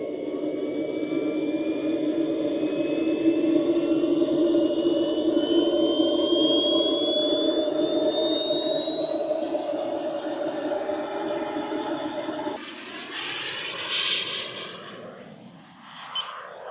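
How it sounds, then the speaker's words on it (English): A loud model jet engine whines steadily, its pitch slowly climbing, then the roar shifts and swells as it flies past and fades, at a model aircraft fly-in. "I'm gonna fly the jet though."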